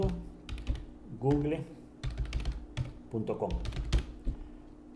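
Someone types a web address on a computer keyboard, with quick, close clicking keystrokes in short bursts, interrupted by someone speaking between them.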